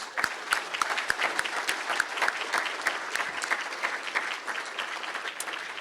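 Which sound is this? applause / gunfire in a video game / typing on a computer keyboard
applause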